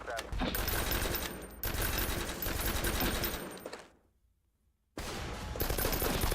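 Sustained heavy gunfire in the video game Noobs In Combat: Cold Front, dense continuous bursts that cut out briefly to silence and then resume loudly.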